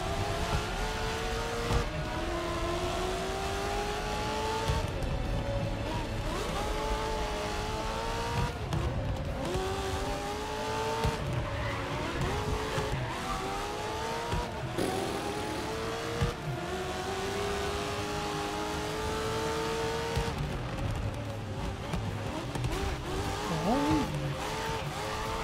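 Race cars in the GRID Legends racing game roar continuously for the whole stretch, engines revving up and down through gear shifts with rising and falling pitch, plus brief tire squeals and skids, loud and steady with no talk.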